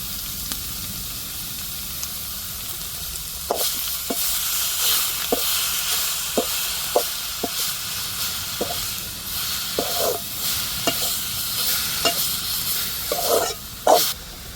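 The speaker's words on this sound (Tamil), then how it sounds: "இப்போ பீட்ரூட்டு மிளகாத்தான் வெட்டி போட்டிருக்கேன்" Chopped beetroot and chili fry in a pan with a steady close sizzle, while a spoon scrapes and stirs in regular strokes, louder clatter near the end.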